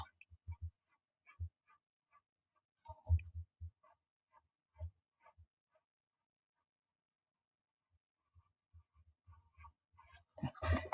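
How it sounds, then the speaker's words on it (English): Pencil lines sketched on paper while drawing a side template, soft scratchy strokes in short intermittent bursts, quiet and close, with a gap of near silence midway. "I'm going to just put a couple of pencil lines on there"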